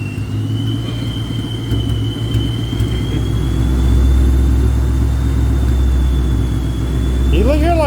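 A low-compression car engine running on E85 idles with a steady, loping rumble, close and loud for several seconds, with a faint whine above it and people talking nearby.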